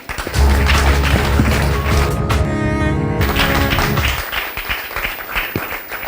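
Church audience at a Bible question-and-answer contest breaks into applause: dense clapping that starts under a sustained musical tone, then continues as a crowd of lighter, scattered claps.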